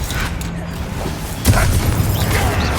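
Bombarda and Confringo spell blasts in Hogwarts Legacy, a rumbling burst with a sharp explosive hit about halfway through, followed by a sustained booming roar.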